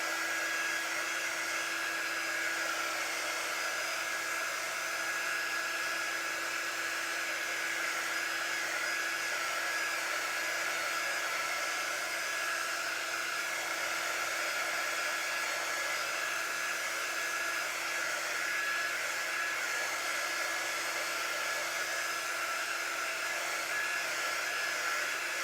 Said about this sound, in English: to use my new heat tool from Magnolia, and I'm going to dry this a little bit because I don't want the colors to be all mixed together